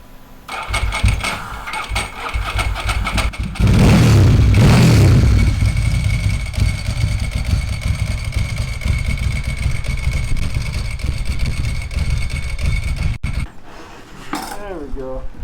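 A Ducati or Moto Guzzi motorcycle engine fires up with a loud burst, then settles into a steady, throbbing idle that runs on for several seconds before cutting off, with brief voices near the end.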